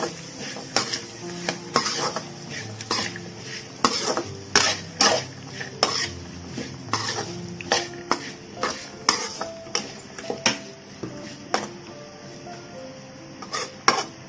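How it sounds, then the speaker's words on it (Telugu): Half a kilo of carrot pieces being stirred with turmeric in a pan, the spoon scraping and clinking against metal in a steady run of close, sharp knocks, with a faint sizzle underneath and no talking. "బాగా కలుపుకోవాలి ముక్కలకి అంత పసుపు అంతా పట్టాలి"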